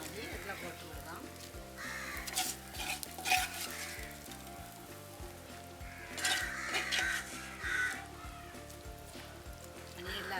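Fried drumsticks and onions being stirred in a pot for a Jaffna-style curry, close sizzling and scraping strokes swelling in bursts over a steady sizzle, with music playing faintly underneath.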